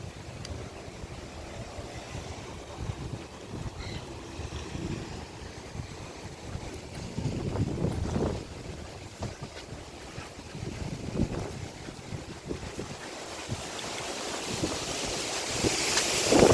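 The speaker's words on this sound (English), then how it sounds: "Oh, look at that wind." Strong wind blowing outdoors around a tortoise enclosure, a steady, loud rushing roar with gusts that swell and ease, buffeting the microphone throughout.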